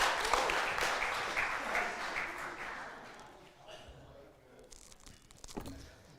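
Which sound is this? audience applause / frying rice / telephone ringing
audience applause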